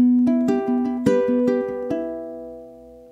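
A low G ukulele plays a fingerpicked pattern of single plucked notes at a steady, unhurried pace, the strings ringing into one another and fading at the end, with no talking.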